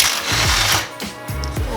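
A small impact gun works at 14 mm sway bar bolts under a Nissan 350Z, giving rapid, loud, close hammering rattles in short bursts.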